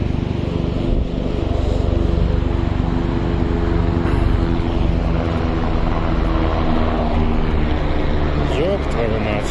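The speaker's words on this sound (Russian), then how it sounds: "Вертолеты еще все время летают туда-сюда." Helicopters fly back and forth over a slippery metal bridge in Nepal, their steady, throbbing rotor drone filling the whole stretch, loud and continuous, with voices present.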